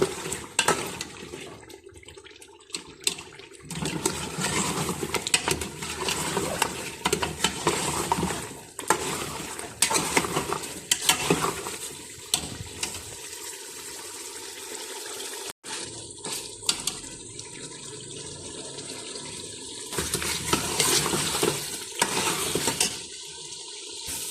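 Beef paya masala frying in a pot while being stirred, an uneven, close sizzle with repeated scraping bursts and brief pauses, no talk.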